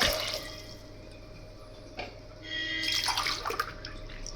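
Water is poured by the cupful into spinach and black chickpea soup, splashing and trickling in short bursts with a louder pour near the end, close up and without speech.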